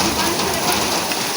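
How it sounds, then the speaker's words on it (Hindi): Heavy rain pours down outdoors by a house during a storm, a loud dense wash of steady hiss filling the short moment. "बारिश तेज हो रही है मम्मा,"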